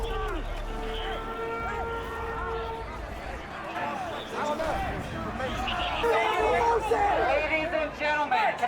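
A large crowd of protesters gathered outside the Capitol on January 6 forms a dense babble of overlapping shouting voices. The noise swells louder and more agitated toward the end, with scattered yells rising above the steady hubbub.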